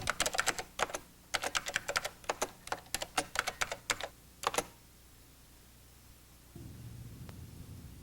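Close, crisp keystrokes on a 1989-era computer keyboard as spreadsheet labels are entered, in quick irregular bursts for about four seconds, then quiet with a low hum and no talk.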